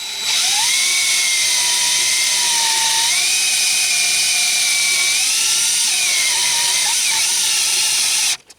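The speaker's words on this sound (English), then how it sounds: "I'm using the carriage to push the drill in." A drill bit is fed by the carriage into a workpiece on a home-made lathe, giving a loud, continuous high-pitched whine with shifting tones for about eight seconds before stopping abruptly.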